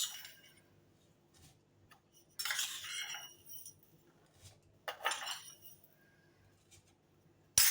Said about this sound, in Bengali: এখন আমি এই যে 3 চামচ চিনি এটাতে দিয়ে দেব